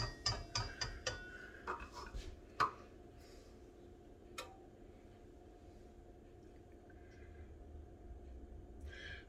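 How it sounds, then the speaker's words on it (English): A mechanical kitchen timer is wound in a home kitchen while dinner rolls are being made, giving a quick run of close ratcheting clicks and then quiet ticking against faint room noise. "I'll set my timer"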